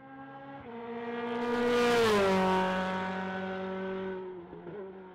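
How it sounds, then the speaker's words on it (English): An Audi RS3 LMS TCR race car on a slow test lap, its engine note swelling loudly as it revs up then easing off, a continuous close drone with a brief shift near the end. "now I just got suited up to go drive the Audi RS3 LMG race car"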